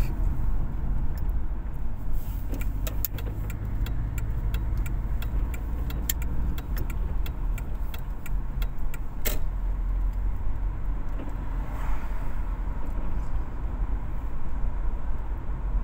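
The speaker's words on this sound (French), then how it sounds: "Le moteur, bah, il n'est pas bruyant, ça va." Continuous low engine drone and road rumble inside a car while driving, steady and fairly loud, with scattered light clicks and rattles over the top.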